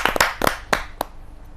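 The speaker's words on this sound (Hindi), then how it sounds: "जोरदार ताली के साथ हम आरपी शर्मा जी का स्वागत करें" Audience applause greeting poet R.P. Sharma at a Hindi kavi sammelan, heard as a few sharp, separate bursts of clapping that fade quickly to quiet.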